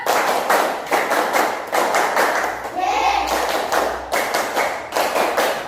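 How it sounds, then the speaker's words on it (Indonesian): A classroom of students claps a rhythmic spirit clap in loud, even bursts that repeat in steady groups, with a brief chanted shout from the group in the middle. "Coba tepuk semangat."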